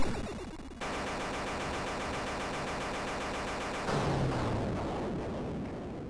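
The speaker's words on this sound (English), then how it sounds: "Love the explosions." Explosions from a boss fight in the video game Axiom Verge form a dense, steady roar that jumps louder partway through, with no talking.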